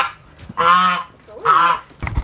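A homestead goose honks loudly nearby, two drawn-out nasal honks separated by a short pause, then a rougher, choppier call at the end.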